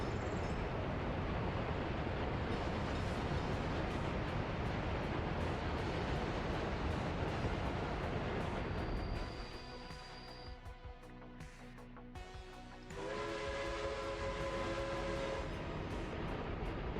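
Trains rolling through a city-building game: a long, dense rumble of rail traffic that drops away midway, followed by clear tonal horn-like notes and metallic clanks as the rumble returns.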